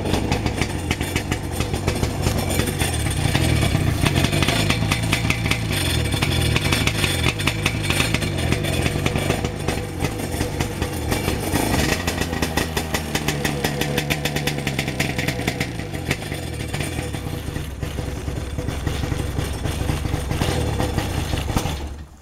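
A freshly rebuilt 1996 Sea-Doo SPX 117 personal watercraft engine runs loud and close for over twenty seconds. It sputters and misfires with an uneven, stumbling rhythm instead of a smooth idle.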